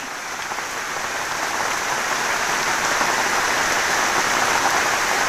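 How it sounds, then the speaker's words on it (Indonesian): Heavy tropical downpour hissing steadily on surfaces, a dense, loud, unbroken roar of rain that builds slightly, with no talking. "Dan ternyata hujan. Deres banget lagi. Ini makin deres tapi malah keluar matahari."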